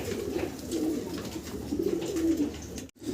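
A fancy Modena pigeon coos in soft, low, rolling bursts, close and steady, ending in a brief silence with no speech.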